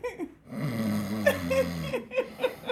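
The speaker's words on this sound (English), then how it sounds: "She's snoring on the phone" A person snoring over a phone line, a few rough, drawn-out breaths with snorting bursts, thin and compressed like a call, while a voice chuckles and talks over it.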